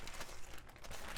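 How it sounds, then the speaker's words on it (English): A plastic zip bag filled with homemade whipped sugar scrub is zipped shut, making a brief, close crinkling rustle that runs steadily throughout. "And we'll just zip that one up"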